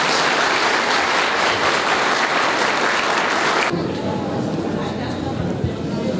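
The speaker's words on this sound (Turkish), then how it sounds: "Belediye başkanımıza sizlerden kuvvetli bir alkış istiyorum." An audience at a Turkish municipal ceremony applauds the mayor, with loud, dense clapping throughout that drops slightly in level partway through, and faint crowd chatter mixed underneath.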